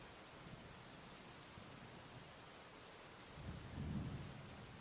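Steady rain hisses softly and evenly, with a low thunder rumble swelling near the end, all quiet and distant.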